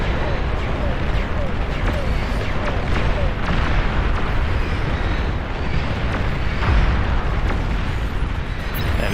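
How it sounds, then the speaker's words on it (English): Capital ship bombardment in the strategy game Beyond All Reason: a dense, continuous barrage of loud booming explosions and rumbling blasts with no breaks, with a voice commentating over the noise. "Capital ship bombardment."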